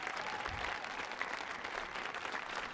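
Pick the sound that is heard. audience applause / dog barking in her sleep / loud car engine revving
audience applause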